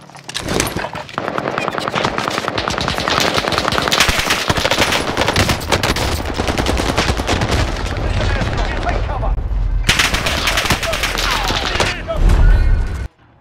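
Sustained machine gun fire in Call of Duty Warzone on the Caldera map, with dense rapid bursts and booming impacts filling nearly the whole stretch, loud and close, with a brief lull near the start.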